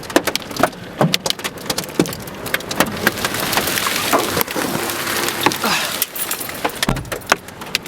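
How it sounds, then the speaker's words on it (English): Very large hail, bigger than golf balls, pounds down during a supercell storm in Dural, Sydney, as loud irregular cracks and thuds of stones hitting hard surfaces over a constant rattling roar. "Very large hail falling."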